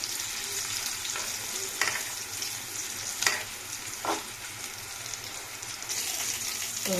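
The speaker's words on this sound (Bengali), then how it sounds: "লাল করে আলুগুলো ভাজা হয়ে গেছে" Potatoes frying together in a covered pan, a continuous close sizzle of hot oil with a few sharper crackles and stirring bursts scattered through, no voices.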